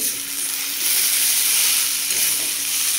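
Rice and katla fish head with spices frying in a wok, a continuous close hissing sizzle that swells slightly midway, with no distinct stirring strikes and no speech.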